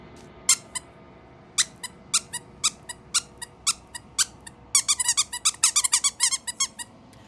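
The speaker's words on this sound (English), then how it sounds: "I have things that can squeak." A squeaky toy sounds off in sharp, close squeaks with no other sound around them. Evenly spaced single squeaks come first, then a fast cluster of squeaks near the end.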